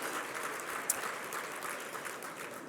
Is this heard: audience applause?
yes